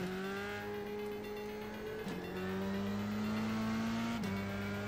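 A single-seater race car in iRacing accelerating, its engine note droning and rising steadily with two quick gear shifts, heard close and alone without any talk.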